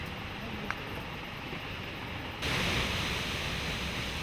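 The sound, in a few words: Huka Falls waterfall near Taupo, New Zealand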